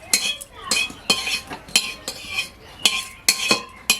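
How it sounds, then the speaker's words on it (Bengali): A spoon repeatedly scrapes and clinks against a pan while chili-based spice paste is stirred in a little oil, giving sharp irregular strokes roughly every half second, close and fairly loud, with no talking. "এই পেস্ট মশলাটা আর একবার একটু নেড়ে নিতে হবে তেল দিয়ে।"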